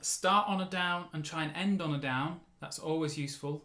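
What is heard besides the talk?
No everyday noise stands out behind the speech.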